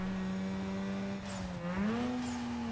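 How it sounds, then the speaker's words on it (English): A Mazda RX-8 revs in the racing game Need for Speed Most Wanted. The engine holds a steady, loud drone, dips briefly, then rises to a higher, sustained pitch, all close and with no talking. "Oh, the engine sounds so good."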